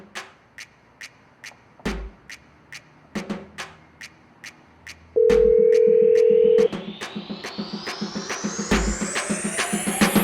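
Phone ringing with no answer, a regular train of short electronic rings repeating near and clear, interrupted by a steady held tone before a rising whine builds under the continuing rings, no talk.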